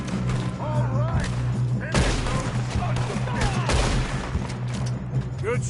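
Gunfire in Red Dead Redemption 2 as a steady run of sharp shots and thuds over several seconds, with voices talking and shouting over the shooting.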